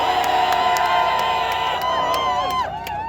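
A crowd at a political speech rally cheers loudly with sustained shouts and whoops, many voices overlapping before tapering slightly toward the end.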